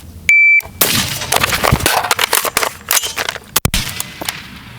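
A shot timer gives a steady electronic beep, then a rapid string of loud, close .308 rifle shots from a PA10 follows, the sharp cracks coming in quick succession before one last isolated shot.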